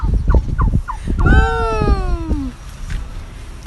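A cartoon chicken makes a few short clucks, then a long wavering, descending squawk. The sounds are loud and close, with no other sounds around them.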